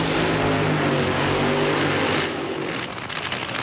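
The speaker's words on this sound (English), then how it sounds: "And here comes Team Winston and the Chevrolet car." Team Winston Chevrolet drag racing car at the NHRA Winston Finals in Pomona, a loud sustained engine roar with droning harmonics that eases off after about two seconds into a rougher, fading rumble.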